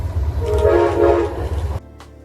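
Horn of a 50th anniversary heritage locomotive, unit 108, blaring loud and close in one sustained, layered blast for about 1.7 seconds over rumbling train noise, then cutting off sharply to quieter rail ambience.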